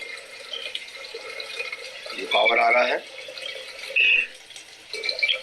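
Water runs steadily in the background while someone talks over it in Hindi, with a couple of louder surges partway through.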